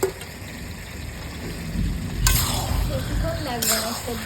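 Taro pieces sizzling in hot oil in a pan, with a steady frying hiss and occasional clinks and scrapes of stirring, while a person talks over it.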